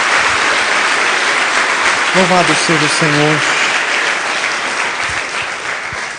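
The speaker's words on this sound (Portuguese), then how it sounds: "uma salva de palmas a Jesus" Church congregation clapping in praise of Jesus, a broad steady roar of applause filling the room while a voice speaks briefly over it, the clapping easing slightly toward the end.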